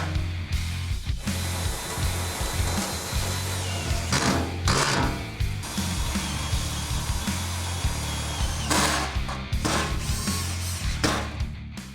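A Matco 2-speed drill drives self-tapping button head screws into aluminum on a Ford Ranger prerunner, whining loudly in sustained runs that shift pitch between high and low speed, with short pauses between screws.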